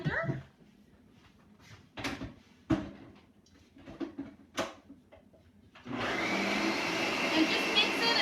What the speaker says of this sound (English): just mix it until it's all nice and smooth